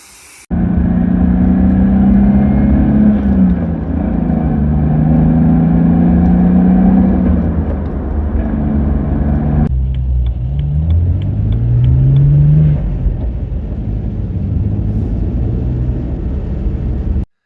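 A restored Bavarian car on a test drive, its engine droning steadily as it accelerates and shifts, close and continuous with a brief drop midway before the revving resumes.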